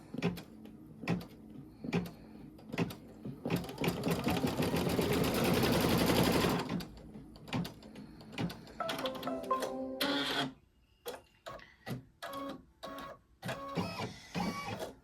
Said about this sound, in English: I have my thread changed, and I am going to stitch my first line.